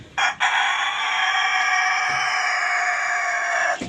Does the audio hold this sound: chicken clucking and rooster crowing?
yes